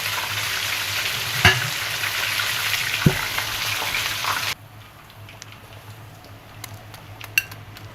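Kentucky-style fried chicken sizzles steadily in hot oil with a dense, loud crackle, then the sizzle drops sharply to a quieter hiss partway through, with a few utensil clinks.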